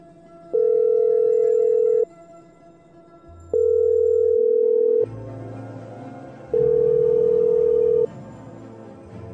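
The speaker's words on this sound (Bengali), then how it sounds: "কিন্তু আবারও রিং হয়ে হয়ে কেটে যায়।" A phone ring tone sounds in three long repeated bursts with pauses between, unanswered, over soft background music.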